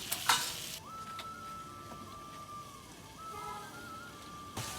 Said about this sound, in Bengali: তারপর এটাকে ভালো করে নেড়ে চেড়ে নিতে হবে